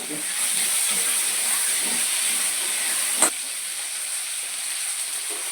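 Potato pieces frying in oil with a little salt and turmeric give a steady, even hiss throughout, broken by one sharp click midway.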